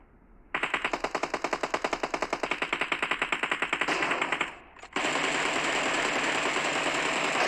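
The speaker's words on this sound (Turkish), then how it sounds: "Birisi silahla vurdu." Rapid automatic gunfire in a multiplayer shooter game, a loud, evenly spaced burst of shots lasting about four seconds, then a brief drop and a steady, dense roar of noise, with no voices.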